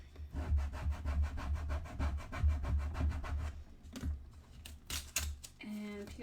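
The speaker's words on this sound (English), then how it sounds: "I'm just gonna burnish this down really well." A tool rubs back and forth firmly over vinyl transfer tape on a mosaic tile, a close rhythmic scraping of quick repeated strokes, ending with a few sharper taps and rustles.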